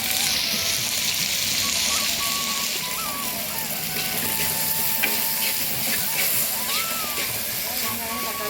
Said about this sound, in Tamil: இது எல்லாத்தையும் சேர்த்து நல்லா வதக்கிக்கலாம்